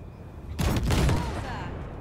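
Gunfire from a vehicle-mounted cannon on the Basilisk, a cargo ship, in Cyberpunk 2077, heard as a loud booming barrage that erupts suddenly and rumbles on with a dense low roar.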